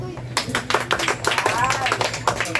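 A group of children claps during a church children's ministry session, a dense burst of rapid, uneven hand claps close by, mixed with voices.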